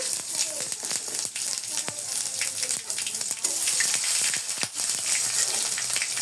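Spices, turmeric and tomato fry in a pan for a jackfruit and chickpea lentil curry, a steady crackling sizzle with stirring scrapes while a voice talks over it.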